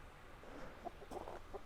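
Faint clucking from a few chickens some distance away, soft scattered calls over a quiet outdoor background.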